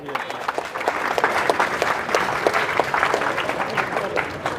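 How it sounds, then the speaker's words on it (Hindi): Sustained applause from a crowd at a Dalit employees' welfare association rally, dense clapping holding steady throughout at moderate loudness with no pause. "जोरदार तालियां बजाइए"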